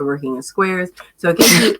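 A person sneezes once during a relaxed knitting chat about yarn and stitch patterns, a sharp, bright burst of breath near the end, right after and partly over ongoing speech.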